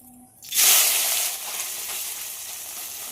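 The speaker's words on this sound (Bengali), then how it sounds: "একেবারে সব দিয়ে দেবো না, অল্প অল্প করেই ভাজবো" Small puti fish rubbed with salt and turmeric drop into hot oil, setting off a sudden loud sizzle that stays steady and close with no talking.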